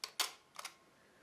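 Rollei Rolleimat AF compact film camera firing its shutter: a sharp mechanical click followed by a softer double click a moment later, close and quiet with nothing else around.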